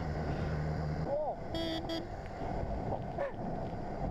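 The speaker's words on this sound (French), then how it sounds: "Klaxon, on dirait un klaxon de camion un peu." Two quick toots from the horn of a 2017 BMW S1000R motorcycle sound over steady wind and road rumble, short and fairly faint, with a rider talking nearby.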